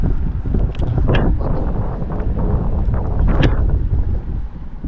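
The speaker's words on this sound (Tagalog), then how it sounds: "Medyo mahangin dito." Strong wind buffets the microphone outdoors by the water during a fishing trip, a loud, constant low roar with gusty swells throughout.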